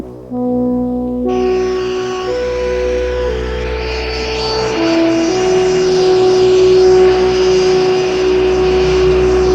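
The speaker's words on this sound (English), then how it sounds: "Boeing 757 ready for takeoff. Boeing 757 cleared to takeoff runway 33, wind 180 at 24." A Boeing 757 jet spools up for takeoff, a loud engine roar with rising whining tones that builds and broadens steadily, heard close and alone.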